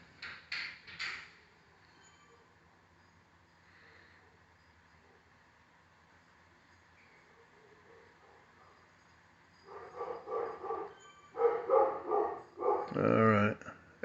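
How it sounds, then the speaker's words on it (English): A dog barks in a few bursts at the start and again in a louder cluster near the end, with quiet room tone between. "as the dog barks, I will go ahead and pause this for a moment"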